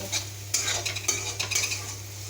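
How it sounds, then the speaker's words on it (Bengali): A spoon stirs chilli, cumin and coriander powder through frying masala in a pan for chicken do pyaza, with several quick rhythmic scrapes and clinks of metal against the pan, close and clear. "লঙ্কার গুঁড়ো দিয়ে দেবো জিরে গুঁড়ো দিয়ে দেবো ধনে গুঁড়ো সব কিছুকে একসাথে মিশিয়ে নেব"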